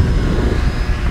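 LX Models B-25 79-inch scale RC warbird flying on a stock 5200 mAh four-cell battery pack, a steady continuous propeller and motor drone heard close and fairly loud with no talking.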